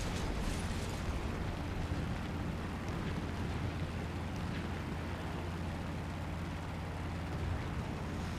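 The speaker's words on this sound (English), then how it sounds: "I'm gonna bomb one of your buddies." A bomb explodes in the War Thunder flight game, a deep sustained rumbling roar with crackling debris that fills the whole stretch at steady loudness.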